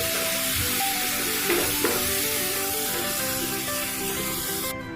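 Small whole eggplants simmering with spices and ginger powder in a pan, giving a steady close sizzle and hiss of frying with faint stirring scrapes, no voices over it.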